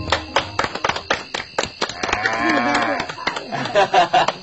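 A group of children on a rice-farming outing clap for themselves in scattered, uneven bursts of sharp, close claps, with a short stretch of murmuring and voices in the middle.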